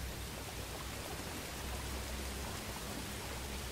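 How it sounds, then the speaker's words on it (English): Steady rain falls in Star Wars Jedi Fallen Order, a continuous even hiss of drops with a low rumble beneath, moderately quiet and with no voices over it. "Yo, the sound of the rain."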